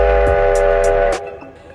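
A loud, sustained steam whistle blares over chuffing rail noise, with rhythmic hissing puffs before it cuts off and fades.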